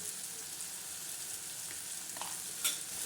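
Spices with turmeric and salt being stir-fried for a usal, a quiet, steady sizzle in the pan with a couple of light spoon scrapes toward the end.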